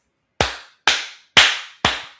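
Four separate sharp claps, evenly spaced, each ringing out briefly in a reverberant room, loud and close rather than the spread-out sound of a full audience.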